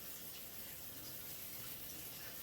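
Cold water sprays steadily from a sink faucet over blanched green beans, a constant close hiss with no talking.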